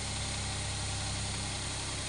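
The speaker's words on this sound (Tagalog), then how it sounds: "Tahimik na tahimik ang makina." An engine idles steadily and quietly after being started, a smooth low hum with a constant throb that stays unchanged throughout, close by and alone with no voices.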